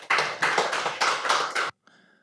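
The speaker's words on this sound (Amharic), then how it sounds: "እስቲ ለራሳችሁ አጨብጭቡ።" A group of people applauding together at a live talk or sermon gathering, a dense burst of clapping lasting under two seconds that stops abruptly, followed by faint room tone.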